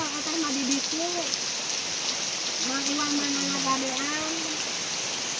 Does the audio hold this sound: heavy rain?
yes